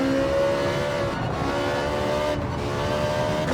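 Race car engine in Gran Turismo 7 holding a steady sustained tone through a sharp corner before getting back on the throttle, continuous and fairly loud with faint tire noise, no talking.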